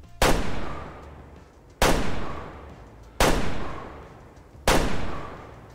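Four loud rifle shots in the hunting game Way of the Hunter, evenly spaced about 1.5 seconds apart, each a sharp crack with a long decaying tail.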